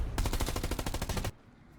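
A tank's MG34 machine gun fires a rapid, loud burst of about a dozen evenly spaced shots in a video game, then cuts off abruptly into quiet.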